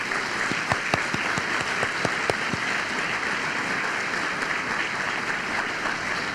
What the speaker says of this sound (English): return the applause for their significant accomplishment so far